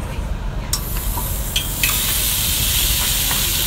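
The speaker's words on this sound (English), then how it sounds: "Ready for the sizzle?" Pork for carnitas hits a hot pan and a loud, bright sizzle erupts, building from light frying into a steady, intense hiss close by.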